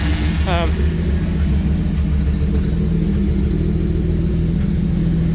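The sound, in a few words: Chevrolet Squarebody truck engine idling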